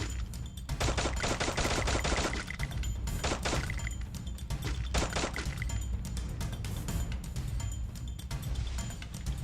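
Gunfire in the video game Free Fire: dense, rapid bursts of shots in close succession, loud and sustained, with brief pauses between volleys.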